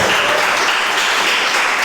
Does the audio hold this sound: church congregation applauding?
yes